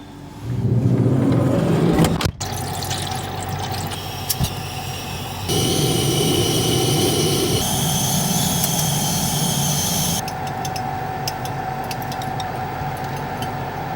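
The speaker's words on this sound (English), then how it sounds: "Sorry about the fan noise from the heater" A heater fan runs inside a camper van during a snowstorm, a steady broadband whir that holds for the whole stretch, shifting in level partway through, with a sharp knock early on and no talk.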